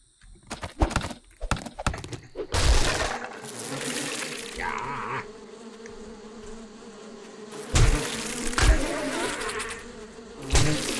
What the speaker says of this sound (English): Bloody bees.